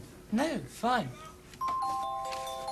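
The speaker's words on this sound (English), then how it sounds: "Ah, the bell. Well, that's it then." A bell chimes in a 1974 school classroom scene, a sustained ringing tone starting partway through and holding to the end, after two short spoken words.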